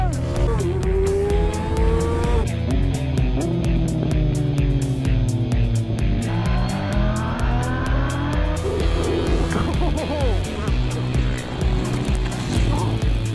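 KTM Super Duke R 1290 motorcycle ridden hard at full power on a 2020 big bike, loud continuous engine roar with rising and falling pitch sweeps through gear changes, close and steady throughout.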